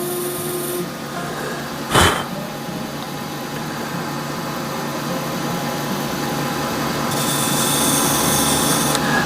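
A skew chisel cuts an epoxy resin shaving brush handle spinning on a lathe, giving a steady close scraping hum under the motor drone, with one sharp knock partway through and no talk.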